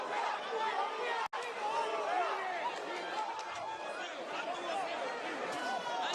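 Boxing crowd at the Pacquiao vs Ugas fight in Las Vegas, a steady, dense murmur of chatter and babble from a large arena audience that holds at an even level throughout.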